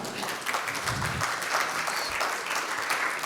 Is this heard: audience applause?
yes